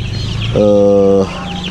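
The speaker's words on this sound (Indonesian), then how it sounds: "yang di depan teman-teman ini adalah ayam KUB 2" KUB 2 chickens on a farm give a single loud, sustained cluck that stands out against a steady background of softer flock noise and rustling.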